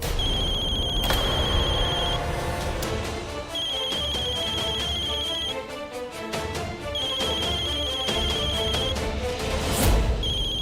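A telephone rings in repeated electronic bursts, several cycles of a bright trilling ring with short gaps between them, loud and close over a steady background of dramatic music.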